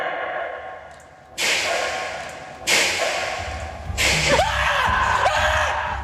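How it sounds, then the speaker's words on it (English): A heavy metal cell door slams shut in a reputedly haunted prison, with three sharp, loud impacts a second or more apart, each followed by a ringing clang and a long echoing decay in a hollow, reverberant space. "the cameras also picked up the sound of a cell door slamming shut"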